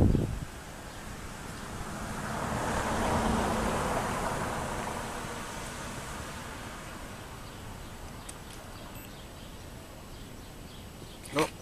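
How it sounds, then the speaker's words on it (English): Gusty wind buffeting an outdoor weather sensor microphone, a broad rushing noise that swells and fades over several seconds, with a brief thump near the end. "come on baby, give us some more wind"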